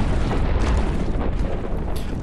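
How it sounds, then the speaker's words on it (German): A loud, dense rumbling blast from the god game Black & White, a sustained boom that fills the whole clip with no voice over it. "Explosion."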